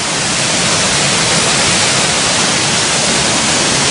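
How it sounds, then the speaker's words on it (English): Waterfall heard from close by, a loud, unbroken wall of rushing, roaring water that stays constant throughout with no other sounds. "I'm going to try and take a picture behind this waterfall"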